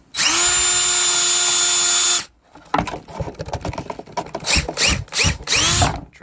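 A power drill bores holes in a plastic Dollar Tree stackable tray, one steady whine of about two seconds, then scraping, handling and rustling of the plastic.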